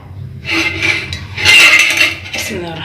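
A metal spoon clinks against a pot or bowl several times as ghee is spooned into milk for an Umm Ali dessert, sharp bright taps close by while someone talks.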